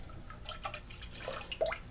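Coconut milk is poured from a can into a pot, a faint liquid splash and dribble lasting under two seconds, with a few soft drips.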